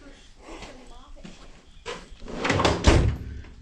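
Drawers of a metal toolbox in a workshop slide open and shut with rattling clunks and a louder bang near the end, while someone talks.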